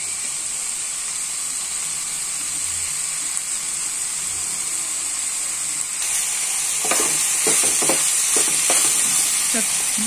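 Mixed green vegetables fry in a pan with a steady, close sizzle that holds throughout, and in the second half a series of quick spoon scrapes and clinks break in over it as the vegetables are stirred.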